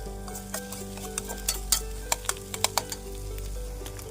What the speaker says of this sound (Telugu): ఇది బాగా ఫ్రై అయిపోతుంది.